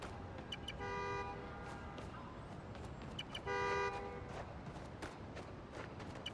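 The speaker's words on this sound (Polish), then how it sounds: "Gdzie klakson, tam wóz." Two sustained car horn honks in the video game Marvel's Spider-Man: Miles Morales, separated by a few seconds, prominent over constant background noise with scattered clicks.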